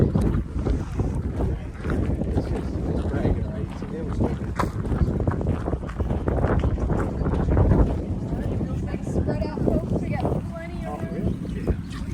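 Steady wind buffets the microphone in a continuous roar with low rumble throughout at Fort Matanzas National Monument, Florida, with faint voices under it.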